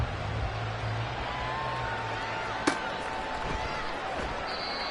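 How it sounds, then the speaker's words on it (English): An American football kickoff in a game against the Bills, with a single sharp thump of the ball being kicked midway through, heard over a steady roar of stadium crowd noise. "here's Elliott on to kick it away"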